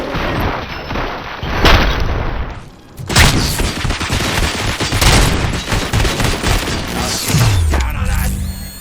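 Heavy gunfire in the RoboCop: Rogue City video game, dense bursts of shots and booms running almost continuously with mechanical clanks, plus a falling whine near the end.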